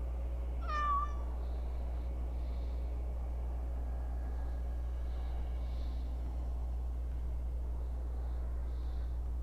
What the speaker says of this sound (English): He's a friend. And he's also a cat.